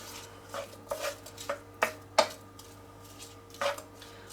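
Two onions and a clove of garlic sizzle gently in a pan while a utensil scrapes and knocks against it in scattered taps and clinks, fairly quiet and close, with no talking.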